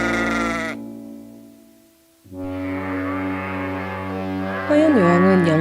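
Sheep bleating in a slightly eerie analog-horror setting, with a long droning bleat, a quiet gap, then a sustained wavering cry that rises and warbles toward the end, fairly close and clear.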